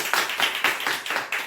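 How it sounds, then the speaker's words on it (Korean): Church congregation clapping in welcome of a missionary during a Wednesday worship service, a short burst of fairly close applause with distinct rhythmic surges of hands, no voices over it. "큰 박수로 한번 환영해 주시면 고맙겠습니다."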